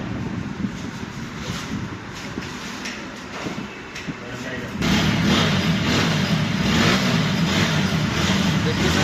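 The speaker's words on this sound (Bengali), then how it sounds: "বাইকটা ইঞ্জিন সাউন্ড" A TVS Apache RTR 4V motorcycle engine runs up close with a rough, steady rumble that grows louder and fuller midway, with an outdoor background.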